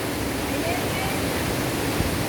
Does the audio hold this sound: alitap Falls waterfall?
yes